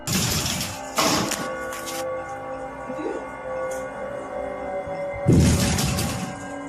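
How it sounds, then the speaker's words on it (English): Mysterious knocking and pounding recorded in a Malaysian village: a few heavy, loud thuds near 0, 1 and 5.3 seconds, separated by quieter stretches with a faint steady hum. "Phantom knocking at odd hours day and night."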